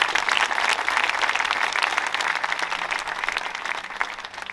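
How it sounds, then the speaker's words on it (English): An audience at a World War II memorial dedication ceremony claps for the PACT Act veterans' law, a steady burst of many hands applauding outdoors that gradually tapers off. "let's clap it up for PACT Act."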